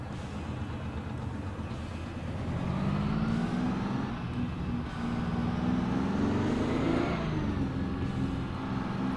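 A Detroit 12V71T diesel truck engine sound mod in American Truck Simulator, droning loud and close as it revs up steadily, its pitch climbing through a long pull before it dips and rises again.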